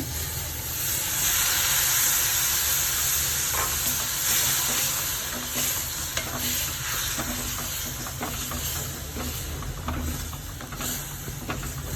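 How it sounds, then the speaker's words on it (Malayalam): Tamarind water squeezed into a hot frying pan while onion chutney cooks gives a steady, loud sizzling hiss that lasts throughout, with faint scraping and stirring clicks underneath. "ഒരു നെല്ലിക്ക വലുപ്പത്തിനുള്ള പുളി പിഴിഞ്ഞൊഴിക്കണം പുളി വെള്ളം പിഴിഞ്ഞൊഴിക്കാം"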